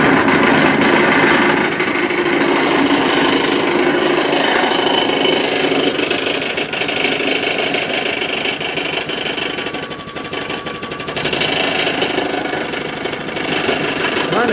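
A Champion 2800 watt generator engine runs steadily up close, a loud continuous rattling drone with mechanical clatter and a faint brief whine partway through, no voices.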